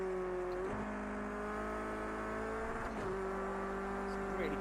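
A race car in the sim racing game Project CARS 2, played on a Logitech G29 wheel, holds a steady high engine whine through the lap, with two brief dips where the revs drop at gear shifts before climbing again.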